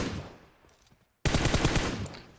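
Gunfire from the video game PUBG Mobile rings out as an echoing tail fades to near silence, then a loud, rapid automatic burst of close shots resumes and runs to the end.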